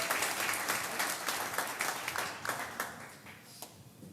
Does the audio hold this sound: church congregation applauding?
yes